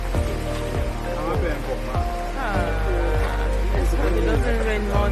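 Heavy rain pours down and leaks into a building at an oil palm mill, a dense steady wash of water with sharp drips and splashes, while a person talks over it throughout.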